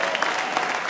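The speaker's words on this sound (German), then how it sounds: "Applaus für meinen Gegner." Crowd applause at a combat sports fight event, a brief dense burst of clapping from the audience, loud and close, filling the whole moment with no clear speech.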